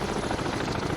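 A helicopter in the naval warfare video game Cold Waters gives off a steady, dense rotor and engine roar, heard alone for about a second at moderate volume.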